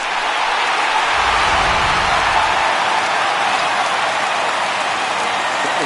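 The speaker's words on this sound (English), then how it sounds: "No better way to get the home crowd into it right out of the gates" Home crowd in MLB The Show 19 at a New York Yankees game, a dense, steady roar of cheering and applause, loud and continuous with a slight swell near the start.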